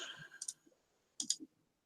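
Five dice rattle and clack in two short bursts, a handful of sharp clicks close up and quiet, with a silent pause between the bursts.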